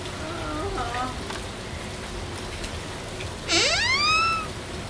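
Steady rain pours in a Hindi horror cartoon, a continuous broadband hiss throughout, with a brief whistle-like rising tone cutting in near the end.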